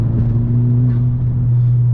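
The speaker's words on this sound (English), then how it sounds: "That intake though, that intake is loud and I freaking love it." A 10th-generation Honda Civic Si with a loud aftermarket intake gives off a steady, deep droning engine note, loud and close, holding even throughout with no talk.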